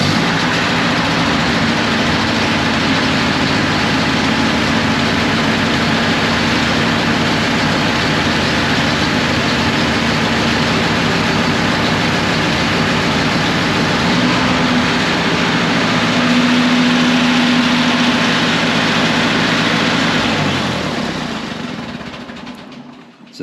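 An old tractor engine idles in the cold with a loud, steady, low mechanical drone and a constant hum, its pitch shifting slightly midway before it fades out at the end. No one speaks.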